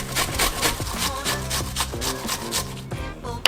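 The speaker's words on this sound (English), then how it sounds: "Let's grate up our white onion." A white onion is rubbed against a grater in steady, rhythmic rasping strokes, each pass a close scratchy scrape, with no talking.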